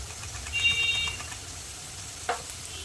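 Turmeric and cumin powder going into onions lightly frying in oil, a soft steady sizzle with faint stirring scrapes and one brief louder clatter of a utensil near the end.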